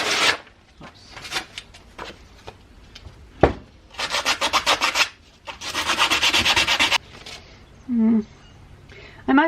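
100-grit sandpaper rubs enamel paint off a big railroad wrench in bursts of rapid, rasping back-and-forth strokes, close and loud, separated by pauses with a brief voice near the end.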